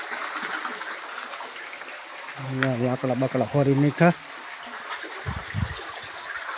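Water from an electric pump motor pours steadily into a tank and a cattle trough on a farm, making a continuous rushing hiss under a person speaking.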